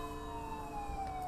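Police car sirens wail from a distance, their tones sliding slowly downward in a long sustained sweep over a low hum of traffic, steady and moderately faint.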